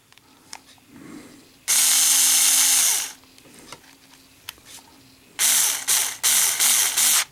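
A power tool whirs in two bursts, one long steady run, then a pause with small clicks, then several short stuttering pulses as it drives the spring screw into a Zippo lighter during a flint change, close and loud.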